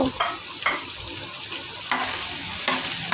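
Vegetables fry in very little oil, a steady close sizzle broken every second or so by scraping stirring strokes, with no voices.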